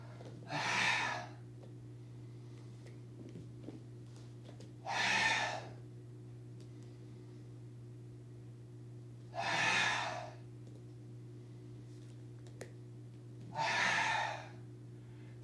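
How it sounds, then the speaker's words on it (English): Nose inhalations during a kriya breathing exercise for detoxification, four long breaths evenly spaced several seconds apart, close and clear over a steady low hum. "I breathe in through my nose on the way back down, not through my mouth."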